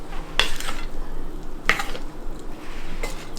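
A utensil scrapes crispy fried rice crust, seasoned with soy sauce, off the bottom of a pan with no wok. Three loud, rough scrapes are spaced over a steady background sizzle.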